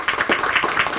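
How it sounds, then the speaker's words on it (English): A short, dense burst of audience applause honoring NEVDC and its scholarship, many hands clapping together at steady loudness for about a second. "I wanted to give NEVDC a round of applause"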